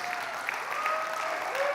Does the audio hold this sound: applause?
yes